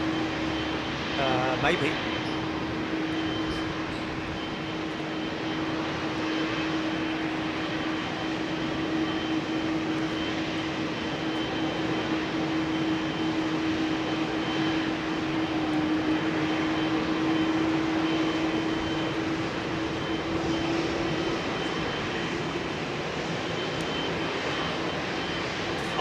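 Steady jet engine drone of a Cargolux cargo freighter at Heathrow, with a sustained tonal hum running under intermittent conversation for the full stretch.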